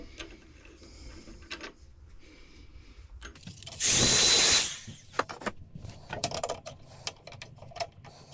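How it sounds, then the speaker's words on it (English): A wooden bowl with curly grain sanded on the lathe, scratchy rubbing and knocks punctuated by a loud steady whir of the spinning lathe for about a second, close up. "we're just going to go ahead and start sanding up through the grits"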